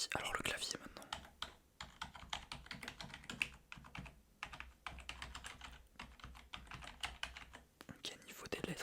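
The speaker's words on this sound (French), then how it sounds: "Alors le clavier maintenant." Soft, close clicking of typing on a gaming computer keyboard in an uneven rhythm, with quiet whispering in between.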